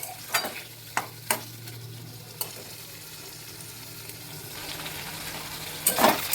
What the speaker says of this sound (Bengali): এই যে মাটনটা আমি কষিয়ে নিয়েছি